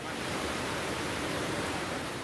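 Flash floodwater in Kota Batu, East Java, rushes past as a dense, unbroken roar, loud and even, with no other sounds standing out.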